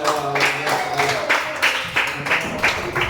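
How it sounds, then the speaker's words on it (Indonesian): Students in a classroom clap together after their teacher's prompt, a dense, steady patter of hands lasting a few seconds at moderate loudness, with a voice briefly audible beneath the clapping. "Oke, tepuk tangan untuk kalian."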